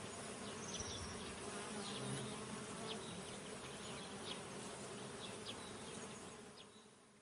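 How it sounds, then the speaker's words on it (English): Bees buzz loudly and continuously around the top of a large oak tree, a dense droning swarm that holds steady before fading out at the end. "from the top of the tree there came a loud buzzing noise"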